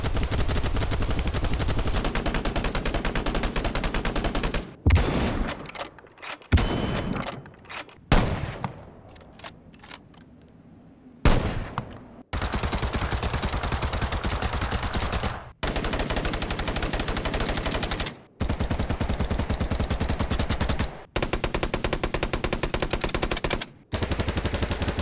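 Gunfire from the video game BattleBit rattles out in dense, loud automatic bursts separated by brief pauses, with a sparser run of single shots and short volleys in the middle.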